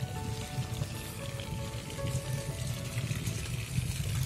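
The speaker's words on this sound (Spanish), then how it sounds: "Está sabrosa la lluvia" Rain falls outdoors over a garden and a concrete sidewalk being built, a faint, steady patter and hiss with no voices.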